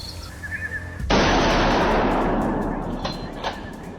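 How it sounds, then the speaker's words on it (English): A hunter's rifle shot fired at a wild boar near farm crops, one sharp, loud blast about a second in, trailing off into a long noisy decay. "the hunter takes precise aim and pulls the trigger"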